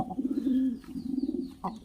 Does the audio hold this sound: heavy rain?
no